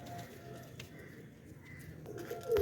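Pigeons coo softly inside a cage, low murmuring calls close by over a faint background with a brief louder flutter near the end.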